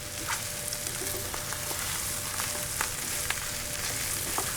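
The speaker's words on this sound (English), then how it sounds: "I'm gonna drop our par-cooked rice into our onions, our jalapenos, our pepperoni," Par-cooked rice fries in a pan with onions, jalapenos, pepperoni, mushroom and tomato sauce, giving a steady close sizzle with occasional sharp crackles and light stirring.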